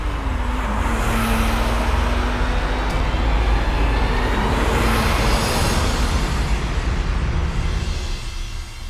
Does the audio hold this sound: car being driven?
yes